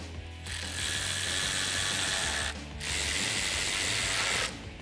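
A ratchet with an 8mm socket clicks rapidly as it tightens intake tube clamps under the hood of a 2005-2010 Mustang GT 3-valve, in two close bursts separated by a short pause.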